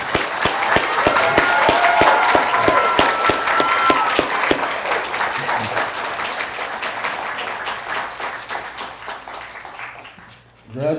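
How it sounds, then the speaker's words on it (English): Applause for GED graduates at a graduation ceremony, a room full of people clapping loudly and steadily, with a few voices and cheers mixed in near the start, then slowly thinning out and fading until a brief burst at the very end. "I think we need to give this group a round of applause for their"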